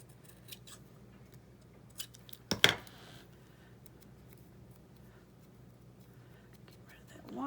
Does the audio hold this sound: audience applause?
no